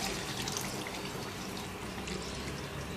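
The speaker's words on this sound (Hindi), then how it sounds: "अब इसमें पानी डालेंगे, करीब आधी प्याली" Water poured into a pan of chicken kofta karahi on the stove, a steady wash of splashing and sizzling that runs unbroken throughout without speech.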